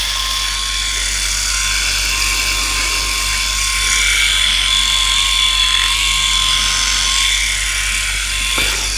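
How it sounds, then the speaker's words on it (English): A Philips i9000 Prestige electric shaver buzzes steadily and loudly close up while shaving, a constant motor hum that lasts the whole stretch without pauses. "nice smooth shave on the Prestige side"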